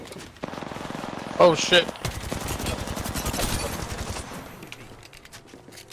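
Rapid automatic gunfire in the video game Apex Legends, a dense, loud stream of shots running for several seconds with a brief burst of other impacts, while players talk and exclaim over it.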